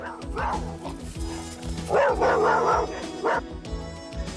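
Dog barks sound a few times over a steady musical background, medium loud, clustered around the middle of the clip with no one talking.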